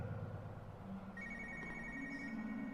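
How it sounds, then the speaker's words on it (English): A phone rings inside the horror game Spooky's Jumpscare Mansion, a faint steady electronic tone rising over dark, droning ambient game background. "I hear a phone call."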